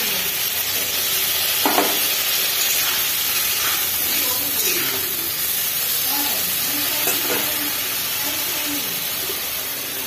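Dried fish curry in a pan after water is added, giving a steady loud hiss and sizzle with bubbling crackles and a few soft stirring knocks, close and continuous throughout.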